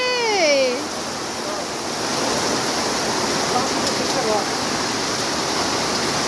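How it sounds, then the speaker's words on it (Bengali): A sudden heavy afternoon downpour at a rural home makes a dense, steady hiss of rain that runs unbroken throughout, with a brief high-pitched animal cry near the start. "দুপুরের পরে হঠাৎ করে প্রচুর বৃষ্টি শুরু হয়েছে"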